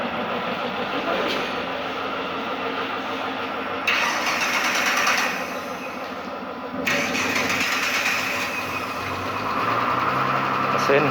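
Car engine cranked with jumper cables during an electrical safety system fault diagnosis, starter whirring loudly then the engine catching and running, with a second cranking burst and steady engine noise throughout.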